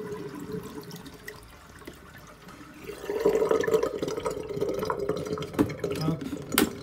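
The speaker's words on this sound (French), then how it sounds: "je ferme mon bac, je laisse l'eau filtrer" Water draining out of a closed tub holding a thawed feeder prey item for a snake, a steady trickling flow with a few drips, heard close with light background noise.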